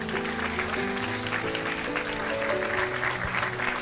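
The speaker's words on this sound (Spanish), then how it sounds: "Denle un fuerte aplauso al Señor." Congregation in a church clapping steadily, a dense sustained wash of applause with musical tones underneath, loud and continuous throughout.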